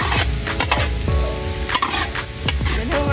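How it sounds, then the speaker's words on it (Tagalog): Onion and garlic sauté in oil with a steady, close sizzle, broken by repeated scraping and knocking of a utensil against the pan at a rural Batangas birthday gathering, with no talk. "nalagutok na sibuyas at bawang"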